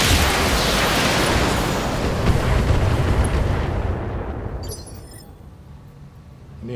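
A BattleTech mech weapons volley: a dense, roaring barrage of explosive fire that rumbles for several seconds, then tapers off into quieter mechanical after-sounds.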